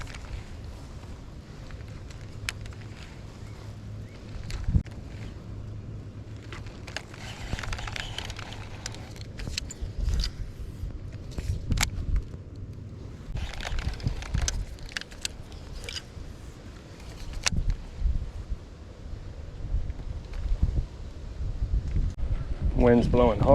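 Strong wind blows outdoors by the water at a bank-fishing spot, a continuous buffeting rush with gusty bumps across the whole stretch.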